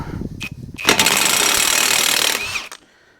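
A Hyper Tough 20V 1/2-inch high torque impact wrench gives a couple of short blips, then hammers loudly and continuously for about two seconds before cutting off, close to the listener.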